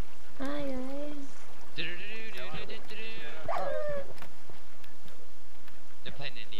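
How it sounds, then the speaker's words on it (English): A dog whining in the Minecraft video game, several high wavering whimpers over about four seconds, fairly close, with faint clicks and buzzing game sounds around them. "Which dog keeps whining?"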